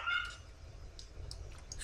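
Dogs bark in the Amnesia video game, a few faint, scattered barks and yips set against a low rumbling ambience, with no talking.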